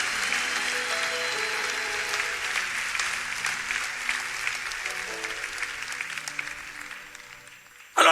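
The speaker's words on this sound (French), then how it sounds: "Si tu acclames, acclame-le bien." A church congregation applauds during a French-language sermon, with steady, continuous clapping that holds at an even level and tapers slightly before ending abruptly.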